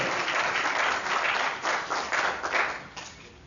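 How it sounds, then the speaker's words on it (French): A debate audience in Johannesburg applauds and cheers for Richmel Moutolo, a short muffled burst of clapping with swelling crowd noise that rises and falls in waves before easing off. "si on peut avoir des acclamations pour M. Richmel"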